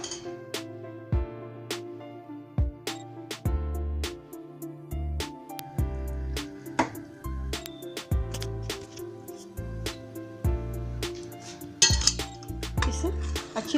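Gulab jamun stirred in sugar syrup in a pan, giving repeated clinks and scrapes of a spoon against metal, steady and close, with no talking.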